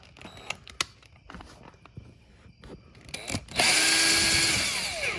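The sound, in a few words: power drill with Phillips bit unscrewing Corvette seat screws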